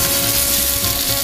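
Salmon steak drops into hot ghee in a pan and sizzles loudly and close, a steady broad hiss of frying with no talking.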